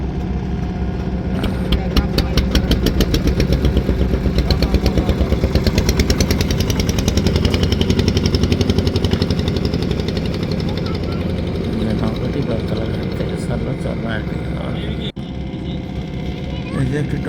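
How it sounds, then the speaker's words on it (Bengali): A trawler boat engine on the river near Beltola ferry ghat in Barishal, a loud, steady chugging throb with rapid regular knocks that fades somewhat toward the end. "ট্রলার দেখতেছেন এটি জর্মনাই ঘাট থেকে এখন বেলতলা ঘাটের দিকে আসছে"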